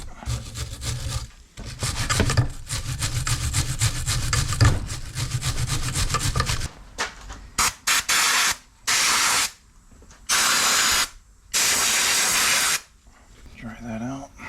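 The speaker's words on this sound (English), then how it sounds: "Let's clean up our caliper bracket." Wire brush scrubbing a Ford Ranger brake caliper bracket, close rapid rasping strokes for several seconds, followed by several bursts of spray cleaner hissing in short blasts.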